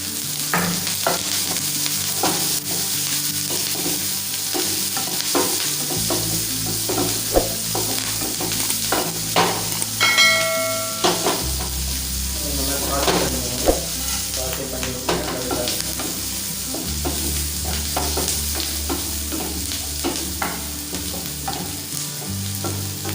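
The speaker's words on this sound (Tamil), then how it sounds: "அப்புறமா ஆனியன் ஆட் பண்ணிக்கோங்க. ஆனியன் கூடவே கருவேப்பிலை ஆட் பண்ணிக்கோங்க." Onion and curry leaves frying in a pan, steady sizzle with repeated scraping stirs at an irregular pace and a bright metallic clink partway through, close and alone.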